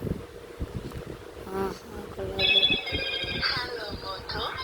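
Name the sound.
Motorola keypad mobile phone power-on sound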